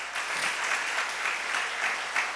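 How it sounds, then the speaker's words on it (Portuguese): A church congregation claps together in a steady, dense round of applause during a sermon, fairly close and continuous, with no voice over it. "Quantos podem aplaudir Jesus?"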